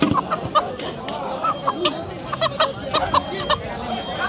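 Sharp rooster clucks and squawks ring out several times over a steady murmur of crowd chatter and voices in a busy outdoor market in Nayarsha, Dohar.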